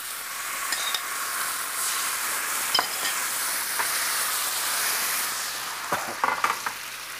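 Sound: shrimp frying in oil

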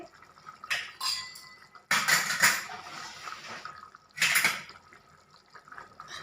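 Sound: water poured into pot of chickpea curry

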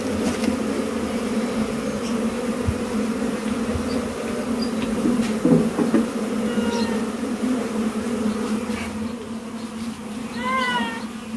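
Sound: swarm of honey bees during colony relocation

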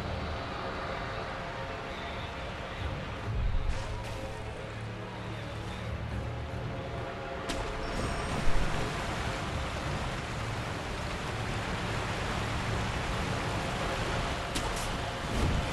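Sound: waterfall roaring in video game Sekiro: Shadows Die Twice

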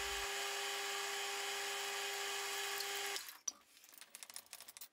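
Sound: 8mm end mill cutting metal

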